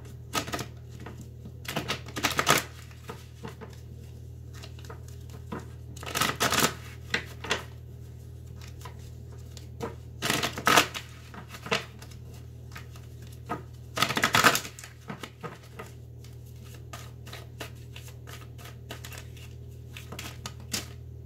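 Tarot cards are shuffled in short bursts of riffling and rustling, four or five separate flurries over a quiet low hum, close by and fairly soft.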